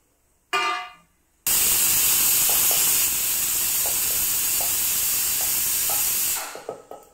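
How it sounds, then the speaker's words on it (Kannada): A kitchen mixer grinder runs with masala and a little water for a raw jackfruit stir-fry, giving a loud, steady, hissing roar for about five seconds that starts and stops abruptly, after a short burst of noise. "ಇದಕ್ಕೆ ಸ್ವಲ್ಪ ನೀರು ಹಾಕಿ ಗ್ರೈಂಡ್ ಮಾಡ್ತಾ ಇದ್ದೇನೆ"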